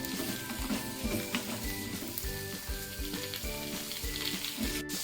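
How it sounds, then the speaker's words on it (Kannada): Oil crackling and spattering in a pan at the start of a raw tomato chutney, a busy close sizzle with rhythmic stirring thumps and scrapes repeating about every half second. "ಎಣ್ಣೆ ಸಿಡಿದಿತ್ತು. ಸೊ ಇದನ್ನ ನೀಟಾಗಿ ಹುರ್ಕೋಬೇಕು."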